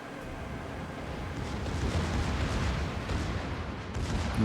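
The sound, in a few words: secondary guns firing in the video game World of Warships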